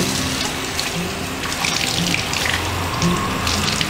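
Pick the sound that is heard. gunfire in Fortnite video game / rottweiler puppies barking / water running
water running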